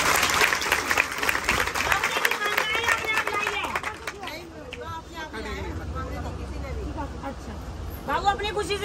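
A burst of clapping from a group mixed with lively crowd chatter and voices, the applause strongest at the start and fading under the talk.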